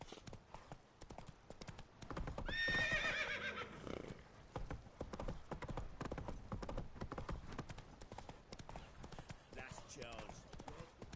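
Horse hooves clip-clop steadily while riding in the video game The Witcher 3, with a horse neighing briefly near the start over a continuous, moderately quiet game soundscape.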